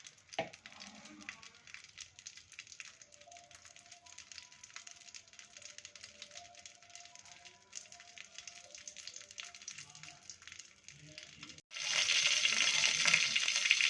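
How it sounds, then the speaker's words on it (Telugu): Soft crackling of oil plays quietly before a sudden loud burst of sizzling as seeds drop into hot oil near the end. "నూనె వేడెక్కినాక పోపు గింజలు వేసుకోవాలి ఫ్రెండ్స్."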